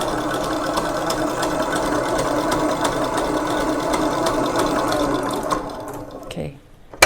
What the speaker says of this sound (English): because this stand mixer is very efficient.